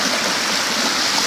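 A rain-fed creek flows slowly down its bed, a loud, close, steady rush and babble of water with no talking.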